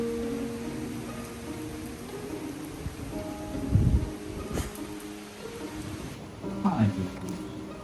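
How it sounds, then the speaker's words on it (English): Heavy rain and gusting wind from Hurricane Milton roar steadily throughout at night in Orlando, with a few louder bursts, while a person talks over the storm. "it is super windy and super rainy, as you can probably hear"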